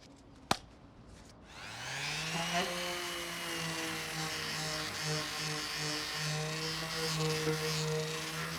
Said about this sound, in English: I've sanded all the wall down